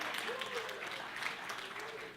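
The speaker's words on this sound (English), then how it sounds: "Give yourselves a big round of applause" Sales seminar audience applauding in a short, moderate burst of dense clapping, with a speaker's voice running over it.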